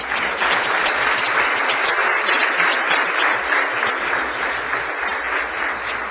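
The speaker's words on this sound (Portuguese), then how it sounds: "Vamos aplaudir Jesus." A church congregation at a service applauds, steady dense clapping from many hands filling the room without a break.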